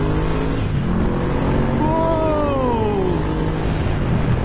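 A Ducati Scrambler Cafe Racer with a Termignoni exhaust revs steadily and loudly close by, its engine note rising and falling once in pitch through a sustained throaty drone.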